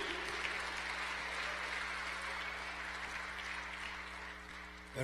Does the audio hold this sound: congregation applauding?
yes